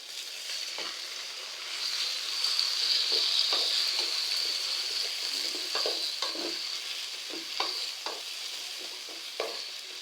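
Tomatoes and curry leaves sizzle steadily in a pan for a village-style chicken curry, with a continuous frying hiss and repeated scraping stirs at an uneven rhythm, close and clear, with no talk.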